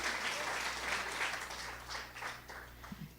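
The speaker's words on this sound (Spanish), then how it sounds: "¿Alguien le da un aplauso al Señor en esta hora?" Church congregation applauding during a Spanish-language worship service, a steady wash of many hands clapping at moderate distance, continuous through the clip with no voices over it.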